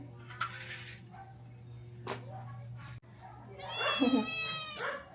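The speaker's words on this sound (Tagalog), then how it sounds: "Ang mga pusa, naghihingi sa akin agad ang pagkain." A cat meows nearby, with a longer drawn-out cry near the end, over a steady low hum.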